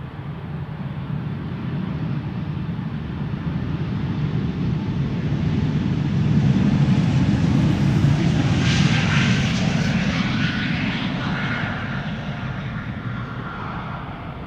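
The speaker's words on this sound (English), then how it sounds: "looks like we might get 2 consecutive E2 Embraers taking off." An Embraer E2 jet takes off at Amsterdam Schiphol Airport, a loud, steady engine roar building to a peak as it passes close, with a rising whine on top, then easing slightly.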